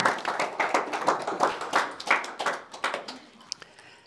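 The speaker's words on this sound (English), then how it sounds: "Maybe somebody is applauding now" Audience applause at a 2023 Erich Fromm research conference panel discussion, a dense run of hand claps that stays fairly loud before thinning and fading out near the end.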